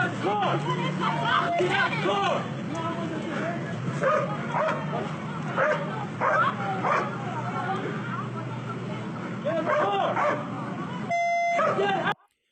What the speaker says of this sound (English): They got a dog there now.